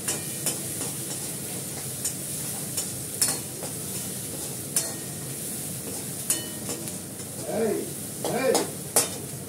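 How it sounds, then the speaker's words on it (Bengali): Cumin seeds tempering in hot oil, a constant crackling sizzle with scattered sharp clicks and scrapes of a spoon against the pan, near and steady, with a faint murmur of activity late on. "একটু জিরে ফোড়ন দেবো, দিলাম, কষাবো"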